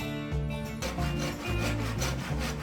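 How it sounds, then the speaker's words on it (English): A Japanese pull saw cuts through a small wood blank spinning on a lathe, giving close, rhythmic rasping strokes over the lathe's hum. No talking. "A Japanese saw like this is fantastic for using on the lathe."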